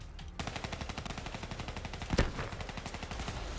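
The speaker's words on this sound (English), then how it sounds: "I should just start shooting." Gunfire in the video game Black Ops 3 during a prop hunt match: a rapid, steady burst of automatic shots, closely spaced and continuous for about three seconds, with one sharper louder crack in the middle.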